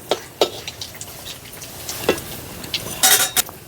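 Sesame cookies frying in oil one batch at a time, with a faint sizzle under scattered sharp clinks and scrapes of a utensil against the pan.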